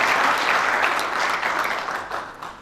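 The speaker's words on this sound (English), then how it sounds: "Let's applaud him for the work that" An audience at the World Economic Congress 2016 applauds, a dense wash of clapping from many hands that slowly tapers off, with no talk over it.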